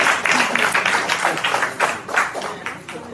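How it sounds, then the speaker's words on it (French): Audience at a Haitian consulate tribute in Boston applauding an honoree, a dense continuous patter of clapping from many hands, fairly loud and close, with some voices mixed in. "une fois de plus on applaudit Jean-Claude Romulus"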